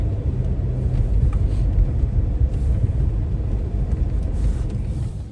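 A car drives along the road toward home, a steady low engine and road rumble filling the cabin throughout, with no talk.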